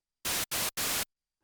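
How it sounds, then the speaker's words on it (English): A KORG minilogue xd synthesizer's multi-engine in noise mode gives three short, loud bursts of harsh white-noise hiss separated by brief gaps, followed by near silence. "By default, it starts on noise mode,"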